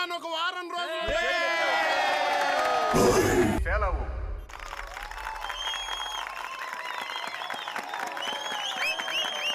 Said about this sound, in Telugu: ఏదో అర్థమైనట్టే చప్పట్లు కొడుతున్నారు యదవులు